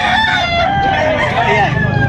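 A rooster crows loudly and close by at a bustling Filipino livestock market, one long cock-a-doodle-doo rising and falling across the clip while people talk around it.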